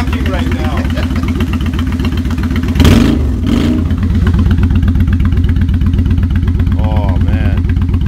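A motorcycle fitted with Vance & Hines Straight Shots exhaust and baffles idles in a steady, loud, throbbing rhythm throughout, with a brief blip of revving partway through and people talking over it.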